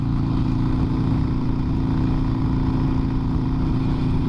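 Heavy road traffic with many cars, including dual-rear-wheel pickups, rolls past in a steady, loud engine-and-tire rumble, heard close up from a motorcycle helmet with constant wind-like noise and no break.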